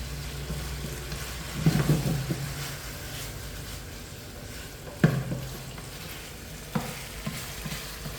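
Orange chicken sauce with a little added sugar is stirred in a pan, giving a steady low sizzle with a few louder scraping strokes near the start, the middle and toward the end, close by with no talk.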